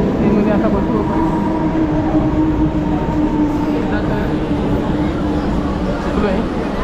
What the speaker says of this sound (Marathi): चला, ट्रेनमध्ये आता बसू आपण.